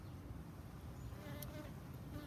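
Honey bees of a local hygienic strain buzzing around a queen, a faint, steady, close insect drone with no talking.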